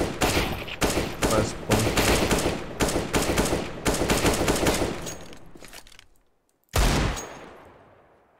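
Rapid automatic gunfire from Call of Duty: Black Ops III, loud sustained bursts with brief gaps, tapering off into silence before one more sharp burst; someone speaks briefly.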